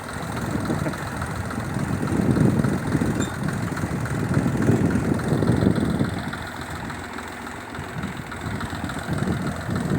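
A tractor engine idles steadily nearby during hay hauling, giving a continuous low rumble that swells slightly and then settles, with no voices.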